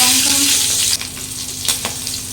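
Green chili dropped into hot oil with cumin seeds for a fish curry, a loud hiss that settles into a softer bubbling sizzle, with a couple of spatula scrapes.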